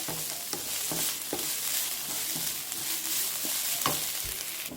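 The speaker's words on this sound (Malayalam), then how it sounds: "എന്നിട്ട് നമ്മുടെ സവാള ഇങ്ങനെ വഴറ്റിക്കൊണ്ടിരിക്കുക." Onions being sautéed and stirred in a pan, with a soft steady sizzle broken by repeated scraping and clinking stir strokes, fairly quiet and close, no talking.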